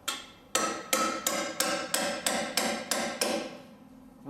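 A hammer strikes a chisel wedged into a Land Rover Defender suspension arm in a workshop, nine sharp metallic blows in an even, quick rhythm, close and ringing, with no talk.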